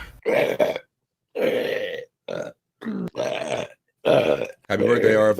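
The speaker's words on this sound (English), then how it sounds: "This is a minute and 21 seconds, and no two burps are alike." A string of loud, close burps of varying length and pitch, about six separate belches with short silent gaps between them and no other sounds around them.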